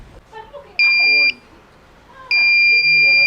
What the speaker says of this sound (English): the buzzer will go on and the LEDs will start blinking.